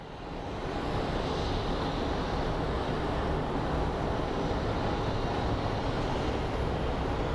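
A CRJ regional jet rumbles at Phoenix Sky Harbor airport, a steady broadband engine roar that holds constant and fairly distant with no voices over it.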